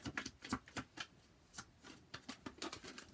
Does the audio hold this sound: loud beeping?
no